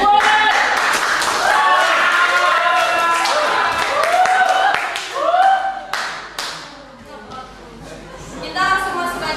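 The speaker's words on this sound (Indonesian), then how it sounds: "Beri tepuk tangan untuk moderator" An audience claps at a public speaking event, with steady, dense hand claps and lively voices and cheers mixed in throughout, tapering off near the end.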